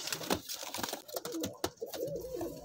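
Golden pigeons at a sale in Amritsar coo in soft, repeated rolling calls, close by, over faint rustling and background murmur.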